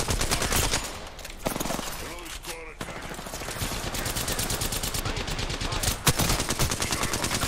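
Video game gunfire rattles in rapid automatic bursts for the whole stretch, loud and dense, with a brief lull and one sharper crack near the end.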